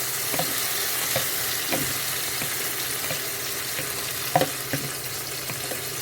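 Omelette mixture poured into a pan of hot butter, giving a steady soft sizzle with faint clicks and taps of a utensil, close and continuous.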